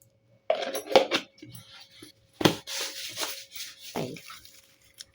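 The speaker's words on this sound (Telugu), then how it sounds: "దీన్ని కూడా మూత పెట్టేసుకుంటున్నాను" Lid snapped onto a plastic grocery container in a home kitchen, a few sharp clacks and rattles of handling, close up, with short pauses between.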